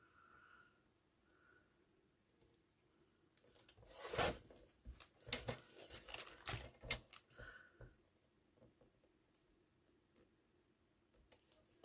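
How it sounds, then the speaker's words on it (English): Scissors cutting fabric into a pennant shape, a quiet run of close, rapid snipping bursts in the middle, faint handling before and after. "I'm going to cut those into a pennant shape."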